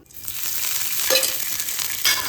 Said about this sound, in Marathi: भाजून घेऊया, जराशी तेलामध्ये खाली वर करून घेऊया, म्हणजे याचा कच्चापणा जरा दूर होईल